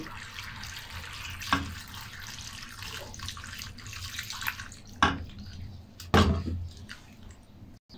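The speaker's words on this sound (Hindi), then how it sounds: "इसको हम दो से तीन पानी में अच्छे तरीके से धो लेंगे" Cut potatoes for french fries being washed by hand in a basin of water, with splashing, sloshing and a few louder sharp splashes over a steady running-water background, close and alone.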